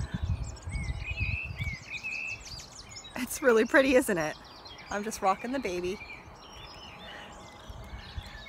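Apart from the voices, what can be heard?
birds singing outdoors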